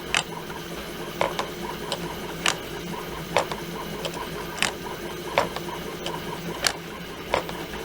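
3D printed Enigma machine rotors stepping through their positions, giving a series of sharp plastic clicks at a roughly regular pace over a low steady background hum.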